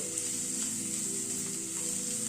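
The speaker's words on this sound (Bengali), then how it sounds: "আদা পেঁয়াজ কাঁচা লঙ্কা সব কিছুকে হালকা করে ভেজে নিচ্ছি" Ginger, onion and green chilli frying lightly in a pan give a steady, close sizzle that holds evenly throughout, with a faint background hum and no talking.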